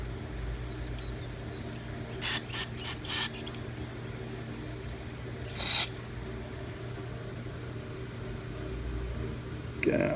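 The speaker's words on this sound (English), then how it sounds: "I'm just going to kind of spray in there and hope for the best." Short bursts of aerosol carburetor cleaner spray into the carburetor of a Poulan lawnmower, a quick cluster of four hisses followed by one more, over a low steady background hum.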